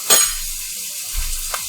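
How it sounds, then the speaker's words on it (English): Onions frying in a pan over high heat for butternut squash soup, a brief sizzling burst with a soft stir and faint scrape near the end, close and moderately loud, no talk. "I'm just going to cook these for a few minutes, the onions for a few minutes to let them soften"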